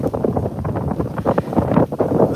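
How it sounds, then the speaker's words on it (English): Hurricane-strength wind on a Jersey Shore beach buffeting the microphone with loud, gusty roaring and rumble, continuous throughout, with blowing sand and voices faintly under it. "The wind's crazy. The sand is pelting us."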